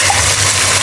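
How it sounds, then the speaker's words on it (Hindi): Water poured into a pan of fried onions, a loud, close gushing splash that runs continuously through the short moment. "ये देखिए, इसमें प्याज हो चुके हैं फ्राई, तो इसमें अभी ऐड करूँगी थोड़ा सा पानी।"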